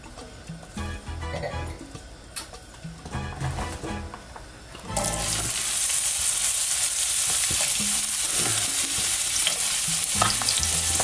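Onion slices dropped into hot extra virgin olive oil in a pan for eggplant parmesan, stirring clatter giving way to a loud, steady sizzle that continues alone.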